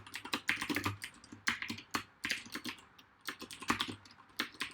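Typing on a brand-new computer keyboard with blank keycaps: quick, close, crisp key clacks in irregular bursts with short pauses, quiet and alone with no talking.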